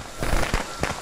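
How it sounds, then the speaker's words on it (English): Fireworks burst in the Friday the 13th video game, giving three or four quick booming cracks in about a second, loud and close with no talk over them. "I thought he threw those fireworks behind me."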